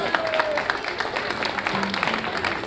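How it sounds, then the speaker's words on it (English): Applause from a crowd at a live gig, moderate clapping and cheering mixed with a few voices and faint tonal sounds in the background. "Give yourselves a round of applause"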